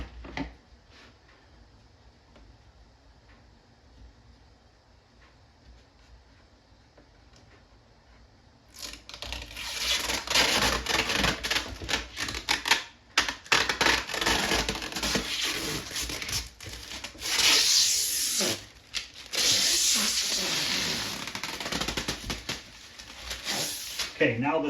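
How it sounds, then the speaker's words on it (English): Protective plastic film being peeled and crinkled off the perimeter of a multicade arcade cabinet during a build, starting quiet then turning into sustained loud crackling and tearing with brief pauses. "let's see if we can get the plastic off of the perimeter."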